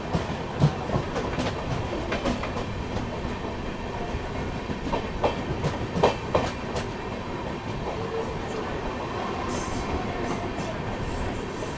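The 16551 Chennai Central–Ashokapuram Express runs at speed, a loud steady roar with rhythmic clickety-clack of wheels over rail joints and occasional squeals, heard from on board with no talk.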